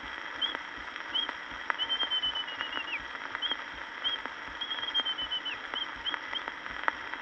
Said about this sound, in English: heard a robin chirping an alarm.